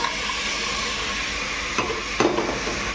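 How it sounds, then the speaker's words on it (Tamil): Boiled chickpeas and potato are sautéed in a hot pan, giving a steady close sizzle with a couple of louder stirring scrapes near the end. "அப்படியே போட்டு நல்லா வதக்கிட்டு நல்லா வதக்கிக்கணும்."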